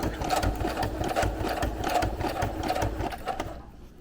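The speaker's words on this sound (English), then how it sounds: "I can change the direction of my stitch and start stitching in a different direction heading down." A sewing machine stitches through paper in close, rapid rhythmic bursts of mechanical whirring and needle chatter, stopping briefly and then trailing off at the end.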